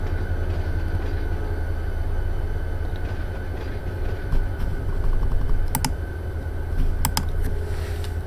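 Train rolling in a simulator game, a steady low rumble and drone with rhythmic clatter, overlaid by computer keyboard typing and a few sharp bright clicks near the end, with no talk.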